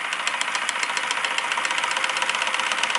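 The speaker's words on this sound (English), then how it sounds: "It is in fact a Stirling engine." An old Stirling engine runs steadily, giving off a fast, even ticking and knocking rhythm over a bright mechanical hiss, close and moderately loud with no voices.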